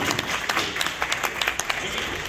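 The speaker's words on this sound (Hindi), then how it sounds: "नेक काम के लिए बहुत सारी तालियां होनी चाहिए." Audience clapping at a university fundraiser, a dense, steady burst of applause from a crowd filling the room, with voices mixed in underneath.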